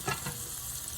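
Okra coated in grated cheese and breadcrumbs frying in oil, giving a steady, close sizzle with a couple of soft bursts near the start and no talk.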